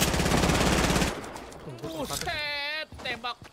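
Rapid automatic gunfire from a shooting video game rattles loudly for about a second, then cuts off as several players talk excitedly over faint game sounds.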